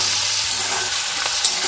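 Onions fry in oil with salt and turmeric, a loud continuous sizzle and hiss with faint stirring, no talking over it.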